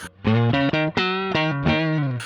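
A Squier FSR Classic Vibe Thinline Telecaster electric guitar plays a short run of sustained notes and chords through an overdriven amp, loud and gritty with a thick distorted tone.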